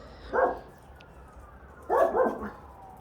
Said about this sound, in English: They bark when they hear the sirens